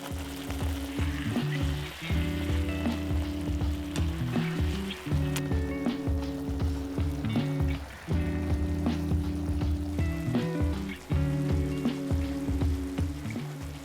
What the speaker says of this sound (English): Just cook it in the sauce for a few minutes or until the sauce is thickened slightly.